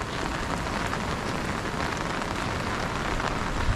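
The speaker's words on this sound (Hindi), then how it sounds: "ये तो इसमें काफ़ी ज़्यादा बारिश है" Heavy monsoon rain pouring in the Nainital mountains of Uttarakhand, a dense, steady roar of drops hitting surfaces, loud and close with no voices.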